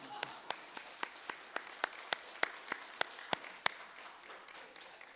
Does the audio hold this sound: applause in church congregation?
yes